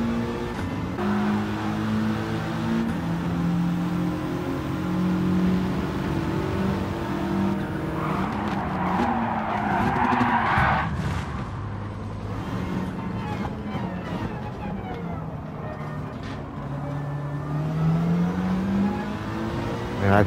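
A race car at Laguna Seca in a racing video game drones under steady engine noise, with a burst of tire scrub and impact noise midway as it brakes and makes contact, then the engine keeps running.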